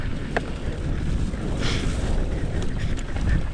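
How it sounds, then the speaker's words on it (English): Strong wind buffets the microphone on a downhill mountain bike track in Adelaide, a steady loud roar with gusting swells throughout and no talking. "so windy."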